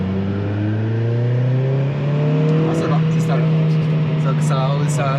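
A Renault Clio 4 RS with 284 hp and a stage 3 tune idles and then revs, a steady engine drone rising under a few short sharp bursts, heard from inside the car.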